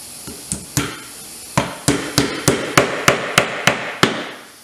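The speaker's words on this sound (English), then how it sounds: "we're going to use a 1 1/4 inch sinker nail with a frame hammer" A run of loud, close framing-hammer strikes driving 1 1/4 inch sinker nails into a wooden beehive frame, starting spaced out and then quickening into a steady series of about a dozen blows.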